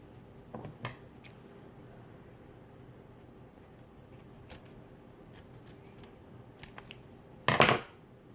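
Scissors cutting ribbon while a bow is made: a few faint snips early on, then one sharp, loud close cut near the end, over quiet room tone with no talking.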